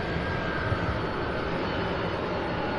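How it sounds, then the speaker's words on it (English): An Airbus A300 taxiing at Louisville airport, a steady broadband jet engine roar and hiss heard from a distance, continuous and even throughout with no talk. "Yeah, that's an Airbus A300 here."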